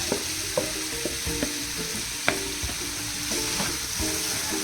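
Potatoes, green chillies and tomatoes frying in a pan, a steady close sizzle with intermittent scrapes and taps of a spoon stirring against the pan.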